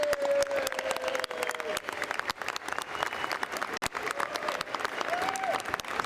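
Lukewarm applause fills the US House chamber during a Speaker of the House vote after a nomination, steady scattered clapping from a large crowd throughout, with faint voices underneath.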